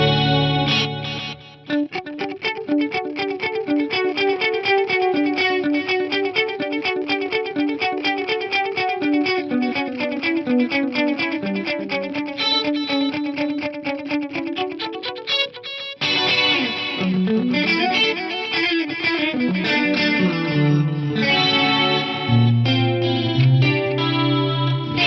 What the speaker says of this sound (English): That's such a satisfying delay. I've got it on the 12-bit mode.